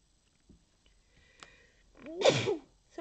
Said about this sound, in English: I inhaled the wrong way, and now I'm going to end up sneezing.